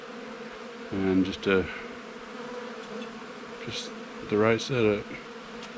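A cloud of bees hums steadily around someone sitting among them in a remote Mississippi swamp, the constant buzzing droning beneath two short bursts of a man's speech.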